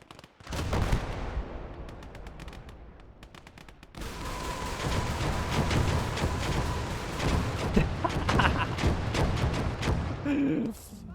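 Rapid game gunfire and artillery booms in the World War II strategy game Gates of Hell, a hardcore Soviet conquest battle, dense crackling shots with bursts of impacts, faint voice talk underneath.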